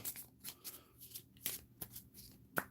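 A deck of game cards is riffled and shuffled on a tabletop in a series of quick, quiet bursts of crisp flicking, close by and with no talking.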